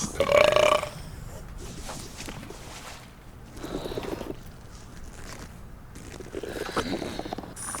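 A long, loud belch opens a burping contest in the video game Return to Monkey Island, followed by rumbling, croaky gurgles and softer burps over ambient game sound.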